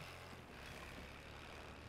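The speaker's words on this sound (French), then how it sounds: "Petit bruit de moteur là." A faint, steady low engine drone in the video game Jurassic World Evolution 3, like a fly, hums continuously without breaks, fairly quiet and even throughout.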